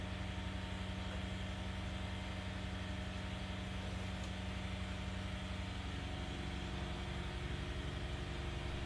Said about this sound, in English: the O-300 became one of the most popular small aircraft engines of its time